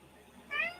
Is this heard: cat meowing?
yes